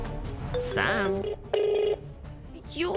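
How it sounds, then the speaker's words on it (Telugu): An outgoing phone call rings in a Telugu TV serial drama scene, with short electronic tone bursts between voices and background music. "ఇప్పుడు అర్జెంట్గా శ్రీనివాస్కి ఫోన్ చేసి ఈ విషయం చెప్పాలి"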